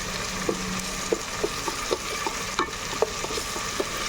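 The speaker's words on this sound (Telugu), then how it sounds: "పచ్చి వాసన పోయి మంచి వాసన వచ్చే దాకా ఇది మనం వేగనివ్వాలి." Mint (pudina) paste frying in oil in a pan, a steady sizzle running throughout with light stirring scrapes and clicks every half second or so, close and alone with no talking.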